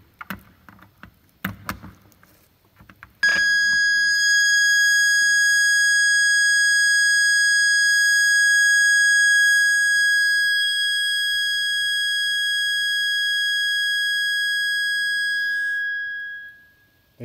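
A modulated signal tone from speakers in an analog communication lab: after a few seconds of faint clicks and handling noise, a loud, steady high-pitched tone comes in and holds for about thirteen seconds before fading out, with no talk.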